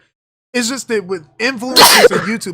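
A single sharp sneeze bursts out in the middle of a man's conversational speech in a podcast setting, close and loud, with talking before and after it.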